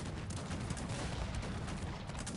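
Cannons fire in a battle in the strategy game Cossacks 3, a dense, continuous roar of overlapping booms and gunfire, loud and unbroken with no talk over it.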